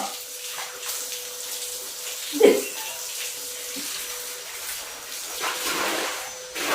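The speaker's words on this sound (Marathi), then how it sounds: "तीच चावी पाईप घेतल्या बघा आणि अंगावर ओतून गेलं चालू केलंय पोरीनं" Water runs from a tap hose poured over a girl on a house porch, giving a steady splashing wash with one brief louder splash, while a voice speaks faintly nearby.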